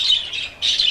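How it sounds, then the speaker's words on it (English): Budgies squawking in an outdoor aviary, two bursts of shrill close chatter separated by a brief pause. "budgies"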